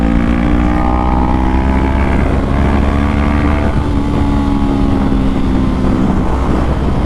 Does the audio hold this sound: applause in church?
no